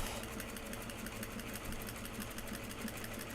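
A sewing machine runs a steady basting stitch along a fabric bag, a continuous fast mechanical whirr and rapid needle ticking at an even pace, close and unbroken throughout.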